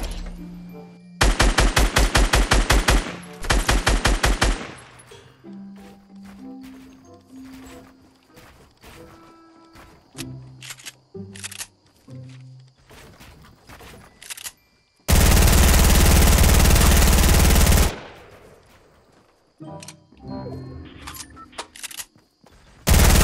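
Rapid-fire bursts from the new SMG in Fortnite Battle Royale, a loud stuttering volley early, then scattered game clicks and footsteps, a long sustained blast of fire, and a final burst at the end.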